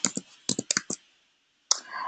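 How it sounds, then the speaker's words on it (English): Fingers tap on a computer keyboard in two short bursts of quick, crisp clicks separated by a pause, close and dry with no one talking. "And we could start by typing."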